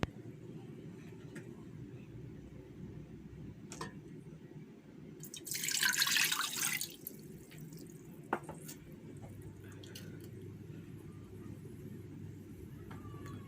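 Water pours into a pot with a little cinnamon for a second or two, a brief splashing hiss over a steady low background hum.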